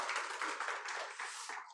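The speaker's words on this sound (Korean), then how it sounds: "우리 하나님께 영광의 박수 올려드리겠습니다" A church congregation claps together in praise, a dense, steady patter of many hands lasting under two seconds at a soft, somewhat distant level.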